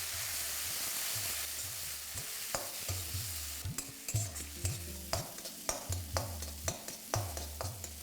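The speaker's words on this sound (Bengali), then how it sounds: "এবার ফ্লেমটাকে লো করে এটাকে ভালো করে একবার মিশিয়ে নিন" A spoon stirs ginger-garlic paste frying in a pan on a low flame, with a steady soft sizzle under rhythmic scraping strokes that repeat roughly every half second, close up and with no talk.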